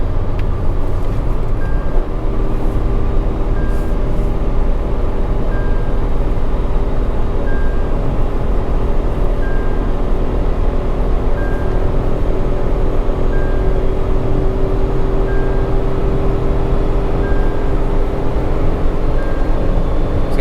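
A new Tata Altroz hatchback at top speed gives a loud, steady roar of road and wind noise with engine drone inside the cabin. A faint warning chime repeats about every two seconds.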